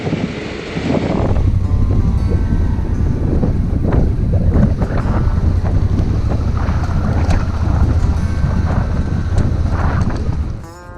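Strong wind at the shore of Laguna Verde buffets the microphone in a loud, constant roar, with rumbling gusts drowning out everything else for the whole stretch.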